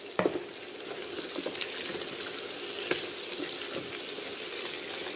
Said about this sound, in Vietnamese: Mình xào như vậy á